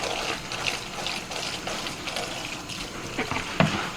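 Tap water gushes steadily into and over a pan used to drain potatoes, rinsing out soap, with splashes and a sharp knock of metal near the end.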